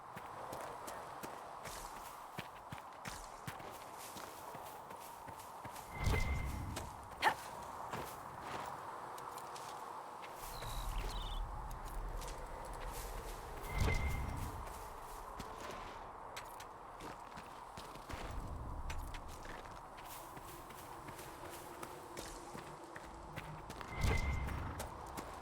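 A horse walks in the fantasy video game Dragon Age: Inquisition, its hooves giving a steady, quiet clip-clop with a few heavier thuds at intervals over a low ambient background.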